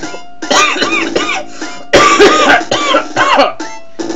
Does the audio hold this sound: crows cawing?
no